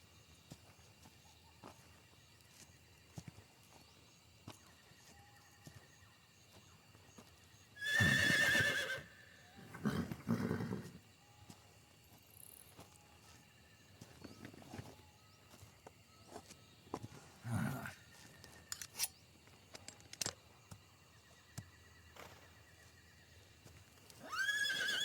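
Horse in the video game Metal Gear Solid Delta: Snake Eater gives two loud whinnies, then scattered clip-clopping hooves and rustling, with another burst near the end over quiet ambience.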